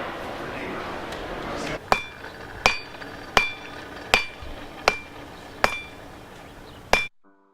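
A hammer strikes a rail spike being forged into a bottle opener, about seven sharp metallic blows ringing out at a steady pace over a background hiss.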